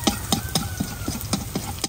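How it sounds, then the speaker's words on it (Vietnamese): Garlic and beans are stir-fried in a hot pan, with a spatula scraping and tossing in a fast, regular rhythm over a constant sizzle, heard close and loud. "Giờ tỏi vàng cho đậu vô."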